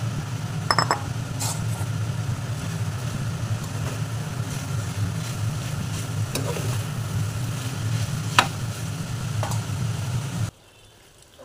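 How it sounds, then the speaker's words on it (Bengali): Fried jackfruit and potato stirred into a curry in a pan, with a low steady sizzle and a few sharp utensil clinks against the pan, ending in an abrupt cut to near silence. "কাঁঠাল আর আলুটা যে ভেজেছি এটা আমি এর মধ্যে মিশিয়ে দিচ্ছি।"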